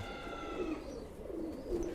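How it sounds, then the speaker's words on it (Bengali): Pigeons coo faintly in low, repeated murmurs against a soft background hum, with a few brief coos spaced through the moment. "সুন্দর কবুতর"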